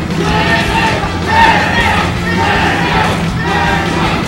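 Audience at a Super Smash Bros tournament match roaring and cheering in a steady, loud wash of crowd noise with voices mixed through it.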